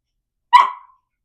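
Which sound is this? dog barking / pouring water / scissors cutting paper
dog barking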